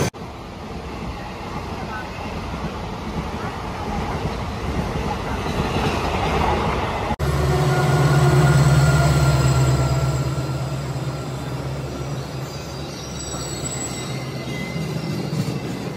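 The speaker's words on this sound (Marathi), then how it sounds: "फायनली ट्रेन आलेली आहे आपली कोचीवली एक्सप्रेस" The Ganganagar–Kochuveli Express arrives at a crowded station with a loud, swelling rumble and a rising, low drone. Wheels squeal and rail noise carries on under a busy platform.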